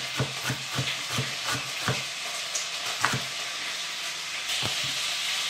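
Chopped chicken pieces fry in a pan for a Spanish Andalusian-style dish, a steady bright sizzle broken by repeated soft stirring scrapes and clacks at an irregular pace, close and fairly loud with no talk.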